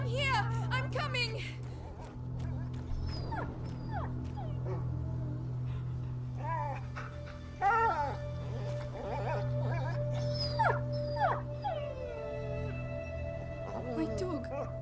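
Dog whining and whimpering in the video game A Plague Tale: Innocence, high thin yelps recurring over a steady low game hum, with voices talking in between.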